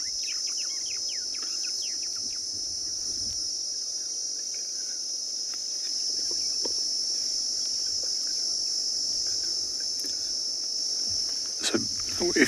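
Cicadas and other insects in the bush at Tswalu in the Kalahari at sunrise, a steady high-pitched buzzing drone with scattered bird chirps over it and a couple of brief louder chirps near the end.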